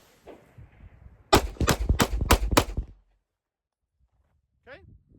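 Glock 43X pistol firing: six rapid, sharp, loud shots in quick succession, followed by silence and a faint voice afterward.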